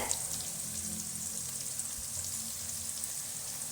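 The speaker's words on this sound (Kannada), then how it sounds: "ದಪ್ಪ ಮೆಣಸಿನ್ಕಾಯಿ ಏನು ಕಟ್ ಮಾಡಿ ಇಟ್ಟಿದ್ದೀವ್ರಿ ಅವನ್ನ ಸೇರ್ಸಾಕತ್ತೀವಿ ನೋಡ್ರಿ" Chopped capsicum sizzles in hot oil, a steady quiet frying hiss with soft crackles throughout and a small bump midway, with no talking.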